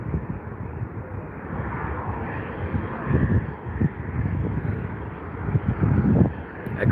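British Airways airliners approaching to land at London Heathrow produce a steady, fairly distant jet roar that swells slightly toward the end, with some wind noise and no clear talk.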